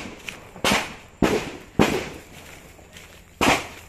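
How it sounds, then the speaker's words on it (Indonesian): Gunfire from a police Brimob unit's shooting practice rings out in four spaced, sharp reports with echoing tails, heard at a distance outdoors, with no talking over them. "Brimob ya lagi latihan tembak."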